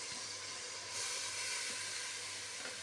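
Onion frying with beef in a pot for an olive tagine in red sauce, a steady hissing sizzle that swells slightly partway through, moderately quiet and continuous with no talking.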